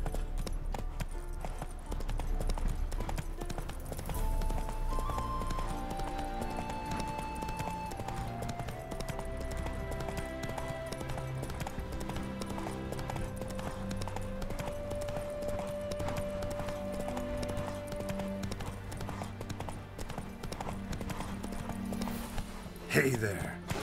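A horse gallops in the Witcher 3: Wild Hunt video game, its steady rhythmic hoofbeats running throughout under background music.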